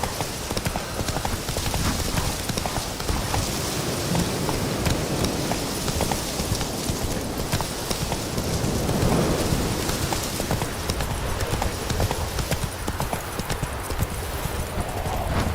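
Horse hooves clip-clop steadily as Roach, Geralt's horse in The Witcher 3, trots along, the footfalls mixed into a dense wash of rain-like ambient noise that continues without pause.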